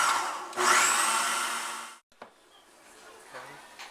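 A food processor pulsing a chopped crawfish bisque ball mixture, a loud whirring burst lasting about two seconds that stops abruptly, followed by clunks and quieter handling sounds.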